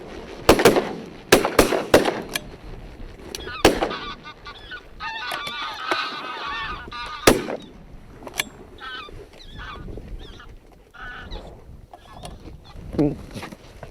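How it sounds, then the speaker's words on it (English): Geese honk repeatedly overhead on an Orkney evening, a scatter of loud and faint calls against quiet outdoor background, with some clicks and knocks nearby. "The sound of geese overhead tells us there's still plenty around."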